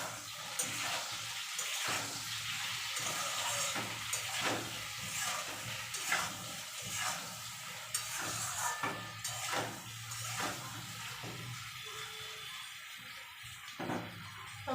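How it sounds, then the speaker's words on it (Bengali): Vegetables with turmeric and salt fry in a pan, giving a continuous bright hiss broken by irregular scraping and stirring knocks, moderately close and with no voices. "আর একটু দেব নুন ভালো করে ভেজে নেব সব"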